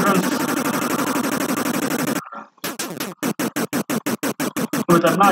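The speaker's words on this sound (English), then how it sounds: "With a nice big cartoon kaboom." A big cartoon-style explosion in the Bionic Commando video game, a loud noisy blast followed by a rapid series of evenly spaced crackling bursts.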